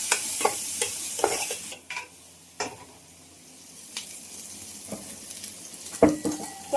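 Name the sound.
stirring rock salt and ginger garlic paste into a pan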